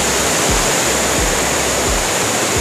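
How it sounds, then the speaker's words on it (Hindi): The Barabakhra waterfall in monsoon flow roars as a steady, loud, broadband rush of falling water, continuous throughout with no voices. "ये वाटरफॉल सिर्फ आपको मानसून में ही देखने को मिलेगा"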